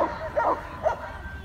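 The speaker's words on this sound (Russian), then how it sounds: "Там толпа очень больших собак." A pack of very large dogs gives a few faint, short barks and yips at a distance, spaced across a quiet outdoor moment with a low murmur of people in the background.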